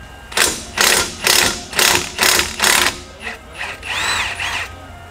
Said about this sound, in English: come at it with the impact gun on the right side and the adjustable wrench on the left side